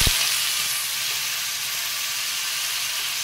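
Pointed gourd (potol) seeds frying in hot oil with tempering spices, a steady close sizzle and hiss running evenly throughout after a brief clatter at the start.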